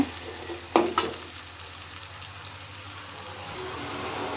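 A fried chili stir-fry in a pan is mixed with a couple of sharp clinks of the spoon early on, then a soft, steady sizzle continues close by.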